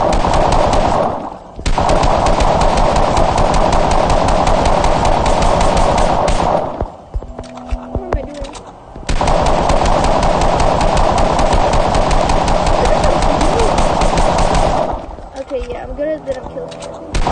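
Drum gun fire in the Fortnite video game: loud, rapid automatic bursts rattling on in long sustained stretches, broken by two brief pauses.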